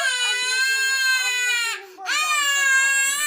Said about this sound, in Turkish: Çok mu ağlıyorsun?